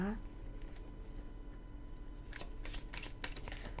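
A deck of Romance Angel oracle cards is shuffled close by, giving soft riffling flutters and quick papery slaps that grow busier toward the end, with a voice talking over them.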